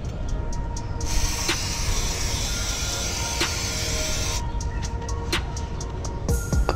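Lubricant spray hisses onto a bicycle chain after a wash, a long continuous burst lasting a few seconds, preceded and followed by short quick squirts, close and fairly loud.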